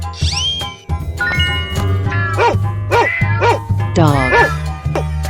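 A dog in a 3D animal video game barks in a quick run of four or five sharp yips, ringing out clearly over looping game music with soft dings and a steady bass beat.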